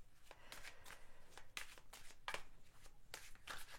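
Oracle cards shuffled by hand in a quiet room, a close, soft run of papery riffles and slides in irregular bursts with no talking.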